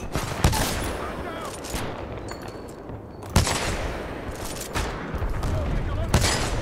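Gunfire rings out in Titanfall 2, with a few sharp, loud rifle cracks spaced seconds apart over a busy battlefield background, while a voice talks faintly underneath.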